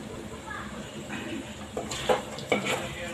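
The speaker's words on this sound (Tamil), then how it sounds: "அப்பப்போ கிண்டி விட்டுட்டே இருங்கம்மா." Dried vanjaram fish fry being stirred in a pan, with scraping, clinking spoon-on-metal strokes over a faint frying hiss, two sharper scrapes standing out near the end.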